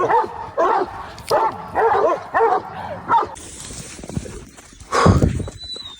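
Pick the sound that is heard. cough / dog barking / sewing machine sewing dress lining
dog barking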